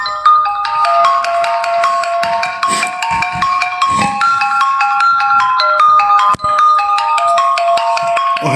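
A phone rings with an incoming call, a loud melodic ringtone of bright repeating notes running throughout, close and alone.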